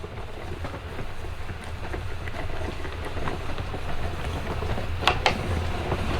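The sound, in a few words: Gina K Intri Cut die cutting machine being cranked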